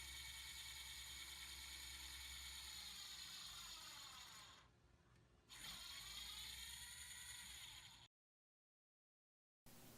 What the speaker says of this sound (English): the racking motor will turn in the opposite direction for approximately 1/4 of a turn to relieve tension on the racking motor